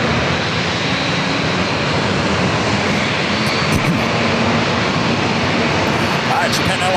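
A Japan Airlines Boeing 787 Dreamliner jet departing San Diego airport, its engine roar steady and loud throughout, with outdoor wind noise and a voice talking faintly underneath.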